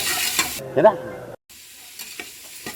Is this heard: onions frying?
yes